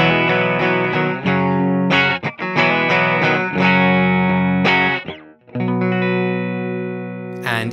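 Electric guitar played clean through an NRG Effects Monochrome Double pedal in true bypass: sustained chords and ringing notes, close and fairly loud, with brief gaps between phrases and no talking.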